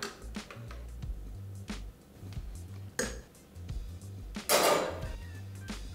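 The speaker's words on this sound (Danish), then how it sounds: "Så tager du en teske, hvad du nu har. Lige rør et par gange rundt i kaffen, for at sørge for, at der kommer lidt cirkulation." A teaspoon stirs coffee in a French press, making a few light metallic clinks and taps against the glass at irregular intervals, with a louder scraping rattle near the end.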